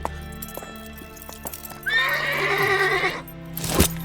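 A horse gives a loud, close whinny lasting about a second, with soft clip-clop of hooves and faint rustling before it and a sharp knock after.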